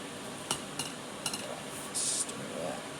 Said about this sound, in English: we're just going to be stirring this